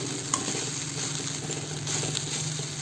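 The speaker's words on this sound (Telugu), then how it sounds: "ఒక 2 నిమిషాల పాటు ఇట్లా బాగా కలుపుతూ ఉండాలండి." Leftover idli upma stirred steadily in a hot pan for a couple of minutes, with a continuous soft sizzle and scraping of the spoon, close and moderately loud, no voices.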